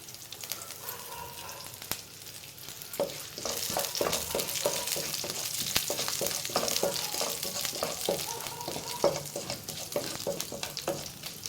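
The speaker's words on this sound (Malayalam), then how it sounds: "കടുക് പൊട്ടിയിട്ടുണ്ട്." Mustard seeds splutter and pop in hot coconut oil with curry leaves, a steady sizzle broken by quick irregular crackles and occasional stirring scrapes, close and fairly loud with no talking.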